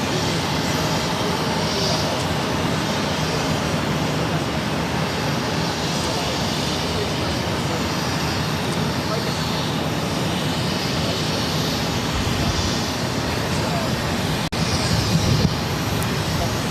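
An Airbus A330-200 jet takes off at Boston Logan, its engines a steady broad roar that holds loud and even throughout. A brief voice breaks in near the end.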